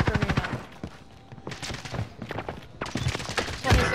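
Rapid bursts of video game gunfire crackle in repeated volleys through the stretch, loud and close, with sharp transient clusters and a heavier thump near the end.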